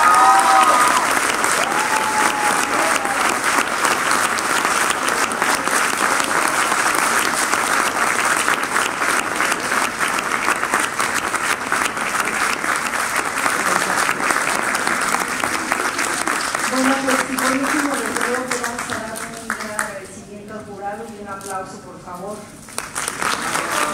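Audience applause fills the hall after a harp graduation exam concert, sustained and even for about twenty seconds before thinning as a voice begins speaking over the last stretch.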